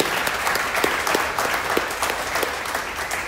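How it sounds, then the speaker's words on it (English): An audience claps for two students at a design talk, steady applause with scattered sharp claps running throughout at moderate, even loudness. "So clap for them, y'all, please."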